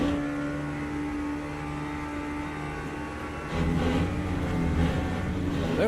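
An LMP2 prototype race car in Le Mans Ultimate: a steady engine whine, then a louder, rougher surge as the car closes in and passes by.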